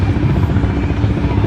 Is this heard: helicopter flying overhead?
yes